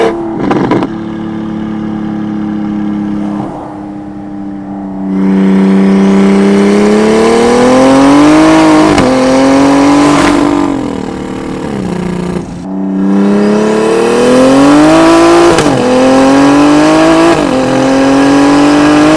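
A big-turbo BMW 335i accelerates hard through the gears, its loud engine note rising in repeated sweeps, with dips and stumbles between pulls from a misfire; no talk.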